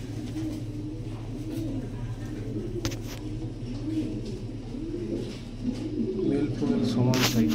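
Fancy pigeons in a breeding loft coo in soft, low rolling phrases throughout, steady and fairly close, with someone talking over them and a few sharp clicks and rustles.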